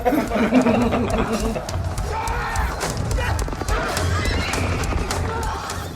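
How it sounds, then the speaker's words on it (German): A stallion neighs loudly and close, with the clatter of its hooves and some background voices mixed in throughout. "Der Hengst ist steil gegangen."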